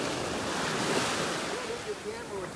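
Ocean surf rolling onto a beach in North Naples, Florida, a steady broadband wash of breaking waves with some wind rumble on the microphone, continuous and fairly near throughout.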